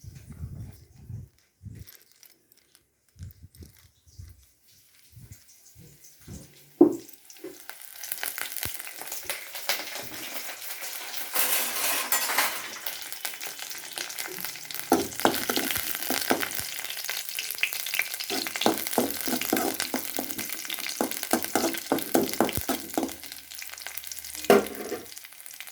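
Curry leaves and small shallots sautéing in a pan for carrot poriyal: a few scattered taps and drops at first, then a steady crackling sizzle with stirring clicks that grows and holds near and fairly loud.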